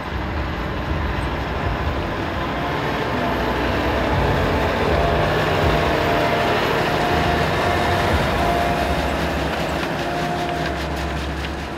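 A self-propelled Quad 550 slurry injector spreading liquid manure works steadily in the field, giving a dense, continuous mechanical rumble and clatter that holds at an even loudness throughout.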